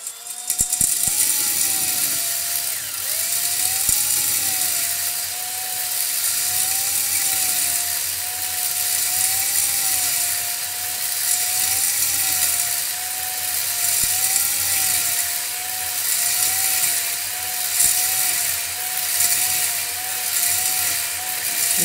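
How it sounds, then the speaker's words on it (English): A cylinder hone spins and strokes inside the cylinder of a Suzuki TS125 engine, giving a steady close whirring grind with a faint wavering whine and slight rhythmic rises as it moves up and down, continuous throughout. "you do not stop the hone in the middle of the process"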